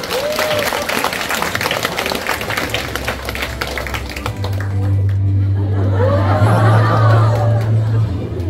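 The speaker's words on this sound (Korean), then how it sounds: "박수 한번 쳐주세요." An audience at a motivational lecture breaks into applause, a dense wash of clapping mixed with crowd chatter and murmuring, moderately loud and fading into background voices.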